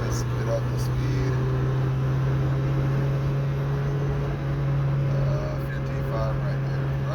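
A Mazdaspeed Miata's engine drones steadily from inside the cabin as the car accelerates up to 55 mph, a constant hum with a low tone running throughout.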